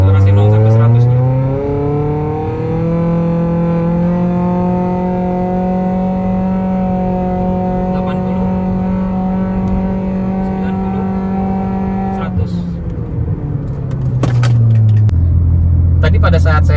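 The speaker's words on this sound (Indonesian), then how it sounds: "Kita akan mencoba akselerasi 0 sampai 100 nya." A 2021 Toyota Yaris 1.5 TRD Sportivo with a CVT accelerating hard from 0 to 100 km/h, its engine droning loud and steady as the pitch climbs and holds, then eases off near the end.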